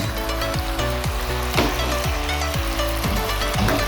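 A pork roast for Jamaican-style pot roast pork sizzles loudly in a pot after being flipped, a constant dense crackle with rhythmic repeated scraping or basting strokes, close and steady.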